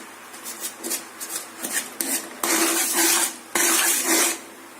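A spoon scrapes and stirs thick jaggery syrup in a pan for flaxseed chikki, giving irregular scraping strokes that swell into longer, louder rasps, with no talking.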